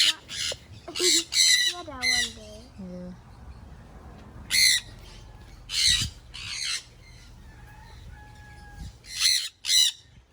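Parrots squawk loudly in harsh, repeated bursts from close by, with short gaps between calls and some quieter whistled and chattering notes mixed in.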